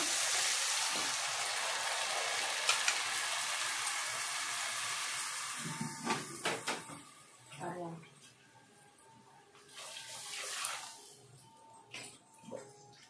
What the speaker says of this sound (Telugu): నీళ్లు పోస్తున్నానండి నేను దీంట్లో